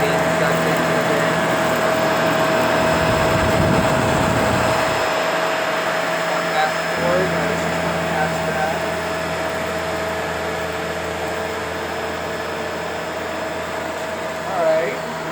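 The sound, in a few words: Shark vacuum cleaner sucking up dirt, sand and debris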